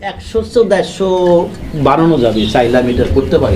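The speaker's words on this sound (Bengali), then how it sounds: "এখানে চমৎকার একটা সিঙ্গেল কবুতর রয়েছে" A single fancy pigeon coos in soft, repeated rolling calls close by, with someone talking over and between the cooing.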